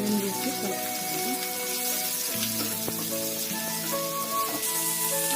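Chopped onions frying in hot oil in a pan, a continuous close sizzle with crackles and pops, steady throughout and no voices.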